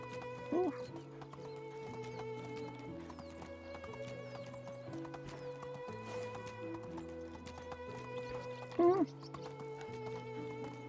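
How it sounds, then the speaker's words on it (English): Hooves clop rhythmically as a horse is ridden in the video game Medieval Dynasty, over a steady melodic music backdrop, with a couple of short whinnies cutting through. "Golly, this is really hard to ride a horse through."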